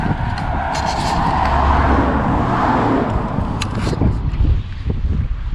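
Rush-hour road traffic at Winnats Pass in the Peak District, UK, a continuous loud rush of passing cars with heavy wind buffeting the microphone, engines swelling and fading without a break.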